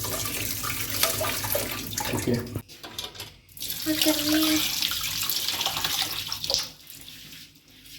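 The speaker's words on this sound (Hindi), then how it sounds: "इसको मज़ीद पानी से धो लेंगे" Tap water runs steadily while peanuts are rinsed in a container, a continuous splashing flow that briefly drops off and then resumes, with someone speaking a few words over it.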